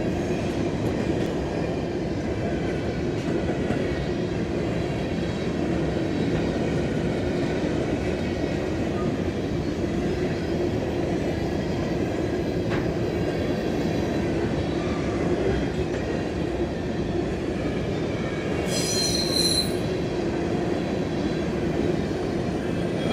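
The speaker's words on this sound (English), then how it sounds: "CSX B240 with 4 units on the head end" A CSX freight train with four locomotives on the head end rolls steadily past in Nortonville, Kentucky, a continuous rumble of wheels and cars at moderate distance with a brief high squeal near the end.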